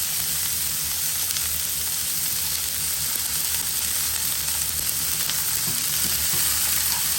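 Fish fillet and whole grapes cook together in a hot pan, making a constant, even sizzle that stays close and steady throughout, with no talking.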